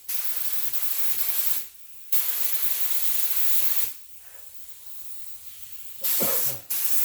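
A paint spray gun lays down clear coat in long passes, and its loud, close airy hiss runs in three sustained bursts separated by short silent pauses.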